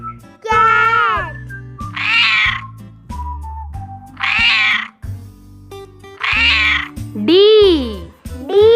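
A cat meows several times, drawn-out and fairly loud, alternating with a voice speaking over a steady background.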